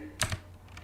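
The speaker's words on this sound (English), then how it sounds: "I was typing in your name for a second." Two quick, close keystrokes click on a computer keyboard during a crypto livestream, faint over a steady background hum.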